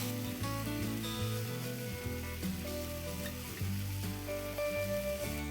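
Finely chopped tomatoes cooking in a pan for an omelette, with a steady soft sizzle and occasional stirring scrapes under continuous background music.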